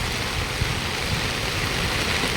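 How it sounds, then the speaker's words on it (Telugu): Heavy rain pouring down outdoors during a walk, a dense, steady hiss of water with no breaks, no voices heard. "ఇప్పుడు కూడా వర్షం చూస్తారు కదా ఎలా వస్తుందో చూడండి"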